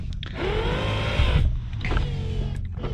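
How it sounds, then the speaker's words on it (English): Power windows on a 1977 Cadillac Sedan DeVille whir up and down in two close, steady motor runs, loud and near inside the cabin with no talk over them. "Power windows."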